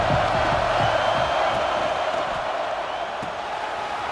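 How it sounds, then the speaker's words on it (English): Stadium crowd from the College Football 26 video game, a broad steady roar of cheering that holds at a constant loud level throughout, with some low thumping near the start. "This crowd ready to make its presence known."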